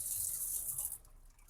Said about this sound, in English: We have running hot water, we have running cold water.